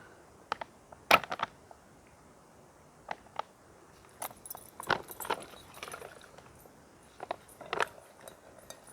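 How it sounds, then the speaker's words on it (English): The lid comes off a metal tea kettle at a canoe campsite on an island, making a scattered run of light metallic clinks and rattles, close by and quiet, with pauses between handling sounds. "Take the lid off my tea kettle."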